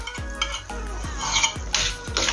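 Cashew nut paste is stirred into a dhaba-style egg masala gravy, with a spatula sweeping and scraping through the pan in several rhythmic strokes over a soft, bubbling sizzle.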